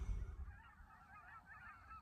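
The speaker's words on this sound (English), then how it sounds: "I wonder if you guys will be able to hear all the birds in this clip." Wild geese honking on an island during a bird survey, a faint, distant chorus of overlapping honks and calls that carries on steadily.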